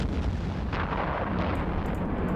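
Rocket fire and explosions in EVE Online roll together into a continuous, dense rumble of booming blasts, loud and sustained with no voices over it.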